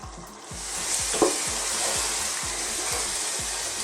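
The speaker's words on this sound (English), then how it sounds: "We want to kind of evaporate some of the liquid off now." Beef curry for an Indian masala bubbling and sizzling in a pan as it reduces, with a steady hiss and regular scraping stirs of a utensil about twice a second, close and fairly loud with no talk.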